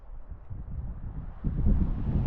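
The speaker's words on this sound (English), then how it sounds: "The wind's picking up pretty good through this valley." Wind blows through a wilderness valley in grizzly country as a low, rumbling gusty roar against the microphone, growing stronger toward the end, with no voices.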